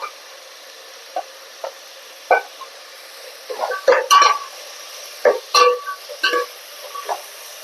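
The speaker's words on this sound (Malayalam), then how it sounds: "ഇനി നമുക്കതിലേക്ക് ക്യാരറ്റും ബീൻസും ഇട്ട് കൊടുക്കാം" Carrots and beans for vegetable rice, tossed into a pan with ground garlic and ginger, sizzle softly while a spoon scrapes and stirs in brisk, irregular strokes, close and clear without talk.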